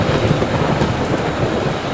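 A loud, close thunderstorm with heavy rain pouring down, a dense steady wash of rainfall layered over low rumbling thunder.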